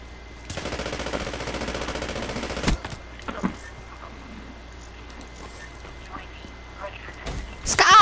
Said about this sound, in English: Oop, firework.